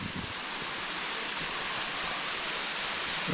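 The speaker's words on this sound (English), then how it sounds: "I can hear this waterfall coming up ahead" A waterfall in the bush on Mount Te Aroha roars in a loud, constant broadband rush of falling water, close by and uninterrupted.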